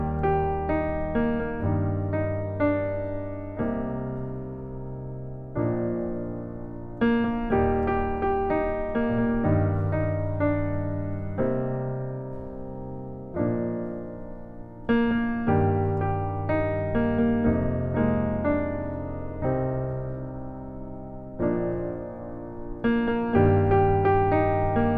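Solo piano plays a sequence of sustained chords, first the song's original harmony and then a reharmonized version, each chord struck cleanly and ringing out at a steady moderate pace, close and clear with no talking.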